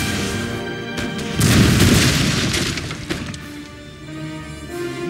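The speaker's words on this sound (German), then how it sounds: "Während Sie den Feind mit Artilleriefeuer eindecken" Cannon artillery fire in the Napoleon: Total War video game, a series of heavy booming blasts that rumble and roll together, loud and close, over a droning game soundtrack with no voices.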